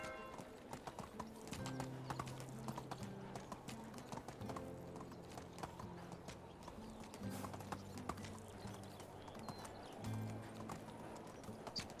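Horse hooves clip-clopping at a steady trot in the medieval village game Medieval Dynasty, close and continuous throughout, with low background music and an occasional whinny.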